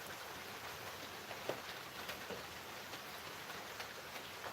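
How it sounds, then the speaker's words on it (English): Continuous steady rain patters on a surface, a dense hiss with occasional louder drops, and no talking. "I've got some rain going on in the background"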